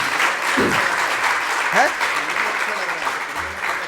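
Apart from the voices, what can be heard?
audience clapping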